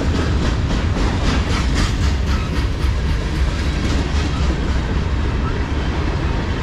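A CSX manifest freight train, M404, rolls past close by, a loud, steady roar of wheels and cars with rhythmic clickety-clack from the rail joints running throughout.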